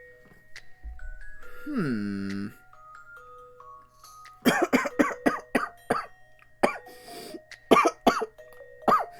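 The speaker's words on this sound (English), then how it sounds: "Don't know where this cough is coming from." A run of sharp, harsh coughs comes in quick bursts after a rising electronic tone, then a few more coughs, close and loud.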